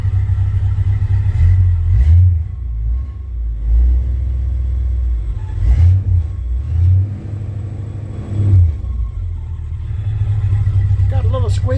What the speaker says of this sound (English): this truck just has mufflers. I don't have good exhaust on those.